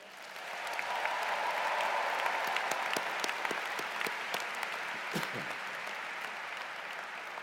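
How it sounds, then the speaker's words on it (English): A large audience at a new student convocation bursts into sustained applause with scattered cheers and whoops, the dense clapping swelling quickly and then holding steady, loud and close. "how about a cheer for those folks?"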